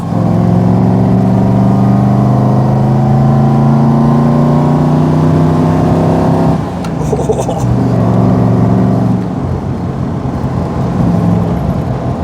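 A Daimler SP250 V8 sports car engine drones loud and steady as it pulls harder, then the tone breaks off briefly with a gear change before the engine climbs again.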